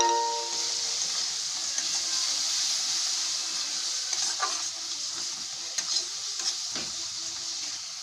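Bitter gourd with turmeric and spices is stirred and fried in a pan, a continuous bright sizzle with a few spatula scrapes and taps partway through, fairly quiet and with no talking.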